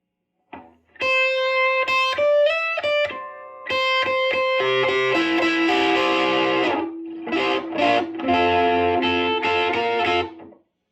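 Distorted electric guitar plays alone through a VHT Special 6 Ultra amp with a Hammerhead distortion mod, clean-sounding notes at first, then thick, gritty overdriven chords ringing out loudly.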